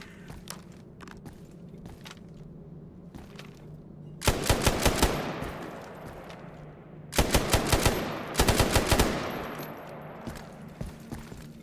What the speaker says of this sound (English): some machine gun, mate.